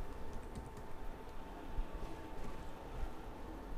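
Typing on a computer keyboard while writing Python code, with soft, steady key clicks and taps running continuously against a low background hum.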